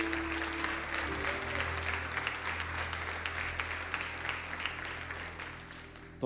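A church congregation applauds during a sermon, a steady, full room of clapping running throughout, with a low hum from the sound system underneath.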